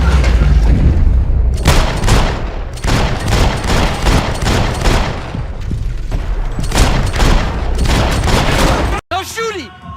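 Gunfire in the Max Payne 3 video game: loud, repeated bursts of shots and booms across the whole stretch, with a short gap near the end followed by ringing tones.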